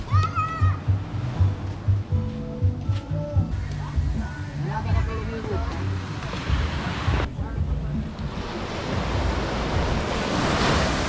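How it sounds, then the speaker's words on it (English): Ocean surf washes onto a beach at El Nido, Palawan, in the Philippines, with a steady rushing roar and gusts of wind buffeting the microphone, while people talk nearby over the waves. "this is a great beach for swimming"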